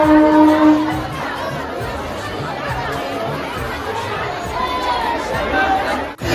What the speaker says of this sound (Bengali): পুরো স্টেশন জুড়ে কিন্তু ভিড় আছে।